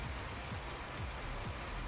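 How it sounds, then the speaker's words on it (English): Steady rain falls on surfaces in the Farming Simulator 19 video game on the Ravenport map, a continuous even hiss of patter heard alone for a couple of seconds. "Yeah, the rain is falling."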